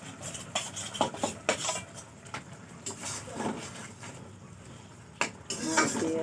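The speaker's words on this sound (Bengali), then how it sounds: "এখন মাছ দিয়ে দিতেছি" Fish being added to a cooking pot, with clattering metal utensil knocks and scraping in uneven bursts, close and moderately loud.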